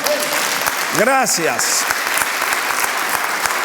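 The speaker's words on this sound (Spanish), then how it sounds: "¿Algún aplauso para el Señor?" Steady clapping from a church congregation, moderately loud and continuous, with a voice speaking briefly over it early on.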